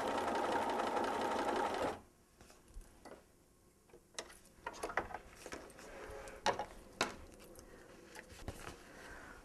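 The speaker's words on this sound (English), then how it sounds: "you take it to the machine and you sew around your shape first" A sewing machine stitches around a fabric heart appliqué shape in a quick, even whir, then stops, leaving soft ticks and taps of handling the fabric at low volume.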